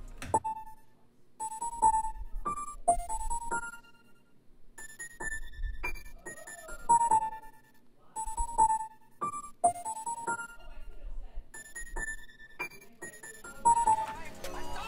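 A piano preset processed with the Portal Duality preset from the Shadow kit, a clean bit-crushed sound for an ambient nature-style beat in FL Studio, repeats a sparkling melodic pattern with a glassy high shimmer, soft and alone.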